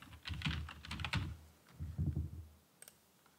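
Typing on a computer keyboard: a short burst of soft, muffled keystrokes in two quick clusters separated by a brief pause, followed by a faint single click, close and quiet with no talking.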